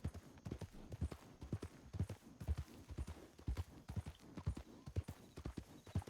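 Horse hooves clop in a steady galloping rhythm, close and continuous throughout.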